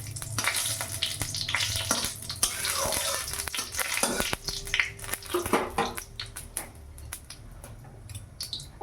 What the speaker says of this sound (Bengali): আমি এখন ফোড়নে সর্ষে দিয়ে দিলাম।